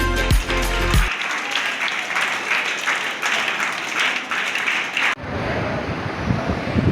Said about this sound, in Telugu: అందరూ ఒకసారి గట్టిగా చప్పట్లు కొట్టండి.